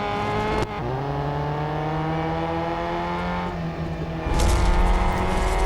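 A Ferrari 500 TRC race car in the game Real Racing 3 holds a steady, close engine whine, drops pitch briefly as if shifting, then surges louder as it passes, with no talk.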